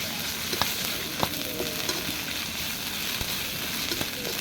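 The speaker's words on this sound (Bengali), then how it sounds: "আমার পেঁয়াজ কাঁচামরিচ ভাজা হয়ে গেছে, এবার দিয়ে দেবো সামান্য পরিমাণে রসুন বাটা।" Onion and green chili frying in a pan as garlic paste is added for chickpea bhuna, a dense steady sizzle with periodic spatula stirring clicks, close and without talk.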